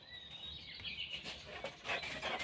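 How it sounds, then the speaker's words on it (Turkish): Birds chirp and whistle in a spring garden, thin high calls rising and falling over a faint background, with no voices. "Geliyor mu kuş sesleri?"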